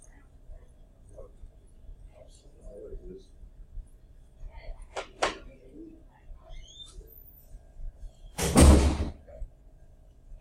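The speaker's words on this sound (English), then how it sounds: "can we close the door maybe?" A classroom door swings shut with a loud, close thud and rattle near the end, after a quiet room with faint scattered knocks and clicks.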